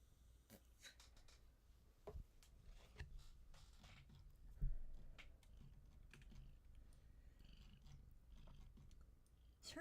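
A house cat purrs faintly and steadily at close range, mixed with soft keyboard typing and small handling noises at a drawing desk.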